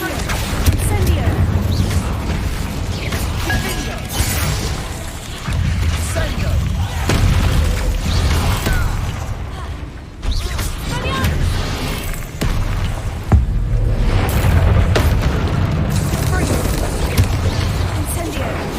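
Repeated Incendio fire-spell blasts in Hogwarts Legacy, a run of loud booming bursts with low rumble and crackle over a continuous game soundtrack, mixed with other spell effects.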